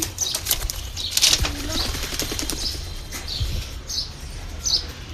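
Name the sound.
high flyer pigeons flapping and cooing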